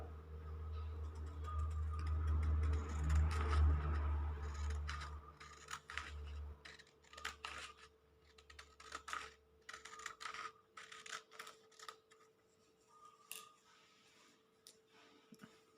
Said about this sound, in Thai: เสร็จแล้วให้เรา ใช้กรรไกร ตัดนะครับ ตัดส่วนด้านข้างออกนะครับ